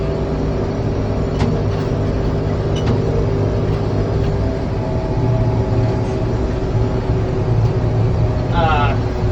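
A farm tractor engine runs steadily with a dense low rumble that stays loud and constant throughout, with a voice talking over it.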